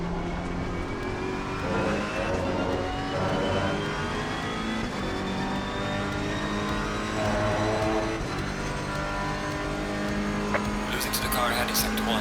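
Race car engines roar continuously in Assetto Corsa Competizione during a close battle with a Bentley, a loud steady drone with shifting pitch and passing-car swells, while a voice talks over it throughout.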